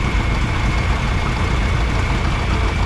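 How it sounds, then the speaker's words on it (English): A 1948 Minneapolis-Moline WD tractor engine runs steadily, a loud, close, low idling rumble that holds constant throughout. "You can stop the tractor."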